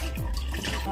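Water being poured out of a bowl of raw meat during meat cleaning with citrus, a short splashing, gurgling pour, close and fairly loud.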